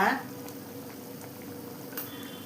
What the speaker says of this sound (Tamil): குழம்பு கொதிச்சிடுச்சுமா, நல்லா